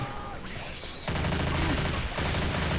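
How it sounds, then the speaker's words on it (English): Rapid gunfire in the video game Left 4 Dead 2 with Counter-Strike-style guns, a dense loud burst of automatic shots that starts suddenly and keeps rattling steadily. "We're using like Counter-Strike guns."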